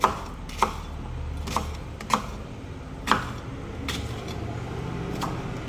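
Raw plantain being chopped with a knife on a board for a village-style curry, giving about eight sharp, separate chops at uneven intervals, close and clear over a quiet background with no talk.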